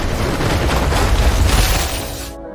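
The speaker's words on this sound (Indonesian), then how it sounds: "membuat ledakan yang sangat besar" A loud, sustained roaring blast from a large explosion in an animated film, with heavy low rumble and crackling debris, gradually easing before cutting off suddenly into silence.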